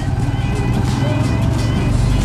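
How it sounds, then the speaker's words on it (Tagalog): Motorized tricycle ride with a loud, steady engine drone and road rumble close by, continuous throughout with no break. "So ayan, nakasakay na tayo sa tricycle."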